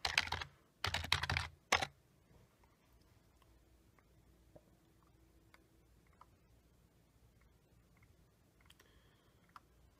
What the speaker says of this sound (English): I can't even type today either